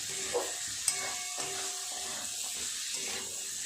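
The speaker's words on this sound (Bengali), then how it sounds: "আর একটু এইভাবে মশলার সঙ্গে রাজমাটা কষিয়ে নেব।" Kidney beans (rajma) being stirred and fried with spices in a pan, a steady soft sizzle with occasional scraping stirs and a sharp utensil knock, quiet and close with no talking.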